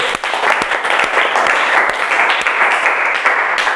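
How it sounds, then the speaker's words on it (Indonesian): Students in a classroom clap for classmates who answered questions, a steady, close round of many hands applauding evenly throughout. "Yuk tepuk tangan untuk kita yang jawab tadi."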